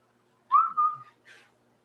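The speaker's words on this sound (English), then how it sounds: "Dog got crazy because I just whistled." A person whistles two short notes indoors, the first a sliding tone and the second a brief, softer chirp after a pause, clear against near silence.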